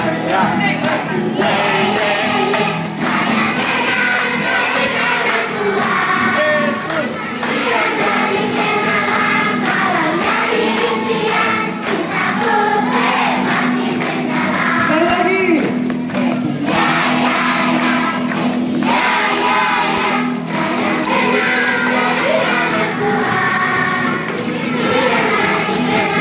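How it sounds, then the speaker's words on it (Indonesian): Students at the Taruna Papua boarding school in Timika sing together as a loud, full crowd of voices, steady and continuous throughout. "sama-sama kita nyanyi."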